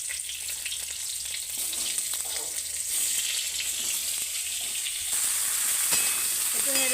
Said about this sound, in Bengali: এবার তেল দিয়ে তেলের ওপরে কালো জিরে ফোড়ন দিচ্ছি আর দুটো কাঁচা লঙ্কা দেব